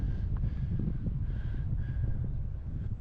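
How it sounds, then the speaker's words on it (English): Strong wind buffets a microphone on an open walk through Terrick Terrick National Park, a continuous low roaring rumble with gusty swells and no voice. "I don't know if you can hear me over the wind."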